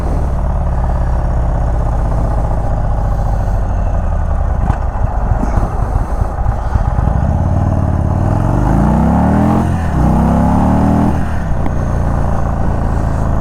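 A 2021 Indian Chief Bobber 116 Stage 2 motorcycle rumbles loud and close, then accelerates hard through rising revs and a gear change, its deep engine note climbing with no talking.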